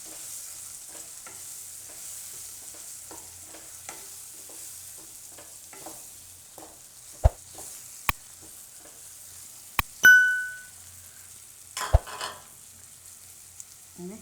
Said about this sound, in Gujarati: હળદર અને લાલ મરચું મિક્સ કરીને તરત આપણે વટાણા નાખી દઈશું.